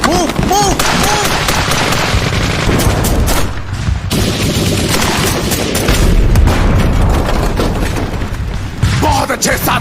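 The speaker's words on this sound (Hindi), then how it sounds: "उनको कवर फायर दो।" Rapid gunfire and heavy booms from an Indian independence-era battle against British troops, with a cannon being targeted, sounding loud and dense throughout under shouted voices.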